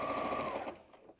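A sewing machine stitches quilt-as-you-go fabric in a short, close burst of fast buzzing that stops abruptly partway through, leaving quieter room noise.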